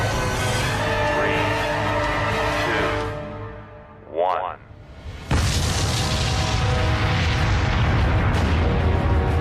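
A WW2 atomic bomb detonates in the desert after a countdown. A massive rumbling roar sounds, then drops away into a brief swooping tone, and a deep sustained blast rumble returns and fills the rest.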